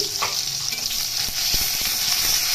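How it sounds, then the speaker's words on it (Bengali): Hilsa fish sizzles steadily in hot oil, a constant crackling hiss close by with a few soft utensil knocks. "এদিকে আমি মাছ ভেজে নিচ্ছি"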